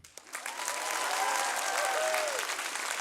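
A comedy show audience breaks into full, even applause that swells after a couple of opening claps and holds steady, with faint whistles or voices rising through the crowd noise.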